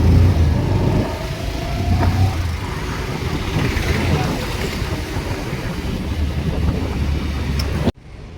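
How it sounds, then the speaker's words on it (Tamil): A Kerala bus passes along a road, a steady broadband engine and tyre rumble with traffic noise that holds for several seconds before cutting off abruptly near the end. "கேரளா பஸ்ஸு"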